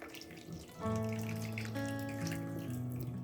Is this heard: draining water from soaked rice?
yes